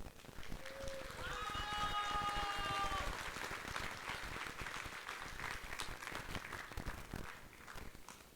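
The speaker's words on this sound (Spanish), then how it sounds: "les pido un fuerte aplauso" An audience at a church conference applauds steadily for an introduced speaker, a dense, moderately distant round of clapping lasting several seconds, with a few voices briefly audible at the start.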